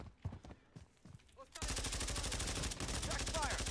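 Sustained automatic gunfire in Call of Duty Modern Warfare III erupts loudly after a quieter opening of talk and game noises, continuing as a dense, rapid, close barrage to the end.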